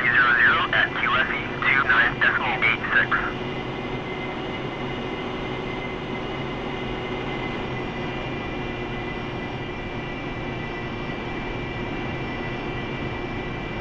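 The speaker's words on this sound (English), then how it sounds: "You are cleared for takeoff when ready." A loud, steady engine roar from an AV-8B Harrier jet on the runway in the DCS flight simulator, holding constant throughout, with radio-style speech over it in the opening seconds.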